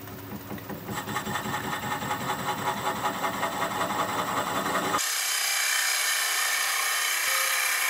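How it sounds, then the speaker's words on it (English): Wood lathe turning a bowl at about 320 RPM, a rhythmic scraping and rubbing of a tool cutting spinning wood that shifts abruptly midway into a smooth steady whir, close and alone. "Lathe is spinning at about 320 RPM."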